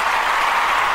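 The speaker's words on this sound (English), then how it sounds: "Give me some applause here." Steady, dense applause from a studio crowd, an even wash of clapping held at a loud, constant level for the whole second.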